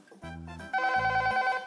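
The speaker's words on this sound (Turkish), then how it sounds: "Çalıyorum kapıyı." A doorbell at a house door chimes in two tones, a short first note followed by a longer, louder ringing second note, clear and close with no voices.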